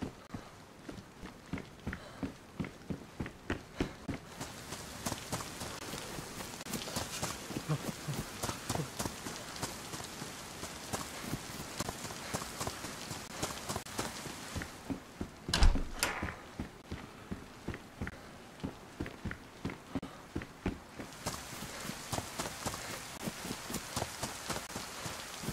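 Heavy rain in the video game DayZ on the Chernarus map pours steadily with dense patter, overlaid by a rhythmic run of footsteps and a brief sharp thump midway.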